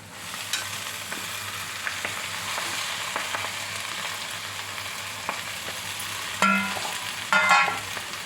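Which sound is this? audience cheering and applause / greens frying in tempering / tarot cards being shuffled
greens frying in tempering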